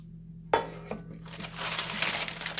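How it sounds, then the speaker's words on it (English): Cake pans being cleaned out in a home kitchen before a layered Jello poke cake goes back in: a sharp metal clatter, then continuous close scraping and crinkling handling noise. "Now what you want to do is take your pans, clean them out"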